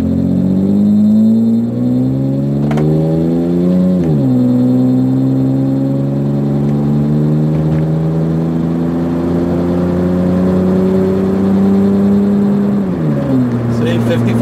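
A 1995 Lexus ES 300 sedan cruises at about 55 mph, a steady low engine hum and road rumble heard from inside the cabin, with gentle rises and dips in pitch as the speed shifts.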